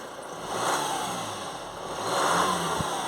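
A Honda CR-V with a throttle fault is revved twice in quick succession, the engine swelling then easing back each time, close and moderately loud with a steady background hum.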